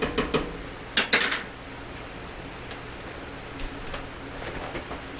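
A large metal pot of soup stock clanks and thuds as it is carried over and set down on a kitchen counter, a short burst of clattering followed by quiet.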